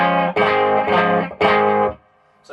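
Distorted guitar chords through a 1978 hand-built English Burman Pro 501 amp with the bright switch engaged: two loud sustained strums cut off sharply, then a brief quiet pause before another chord starts.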